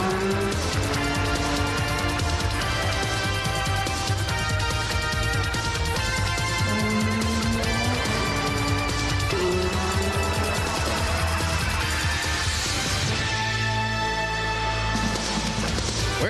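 Dense engine roar of NASCAR race cars at Atlanta Motor Speedway during the 1991 Motorcraft Quality Parts 500, steady and loud throughout with pitch shifts as cars pass, alongside accompanying music or broadcast sound.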